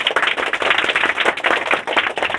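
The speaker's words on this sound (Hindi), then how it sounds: "इनके लिए एक ताली बजाइए आप लोग" A village school audience claps for a student, a steady burst of many hands at close range that lasts the whole stretch without talk.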